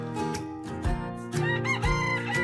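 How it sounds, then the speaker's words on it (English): A single cock-a-doodle-doo from a farmyard rooster rings out over a continuous musical backing, fairly clear and close. "I hear a rooster."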